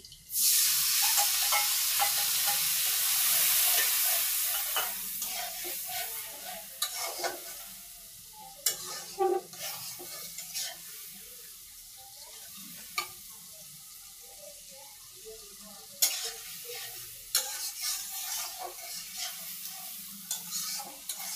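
Ground spices, cumin, ginger and onion pastes, frying and being stirred for a soybean curry, a loud steady sizzle at first that settles into softer frying with repeated scraping strokes of a spoon against the pan.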